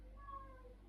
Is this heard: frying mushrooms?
no